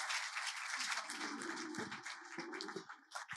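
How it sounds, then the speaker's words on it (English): Applause from an audience at a food panel event, a moderate clatter of clapping hands with a low murmur of voices beneath, somewhat faint and uneven toward the end. "So can I get a round of applause for PHOEBE GARDNER and ROBYN?"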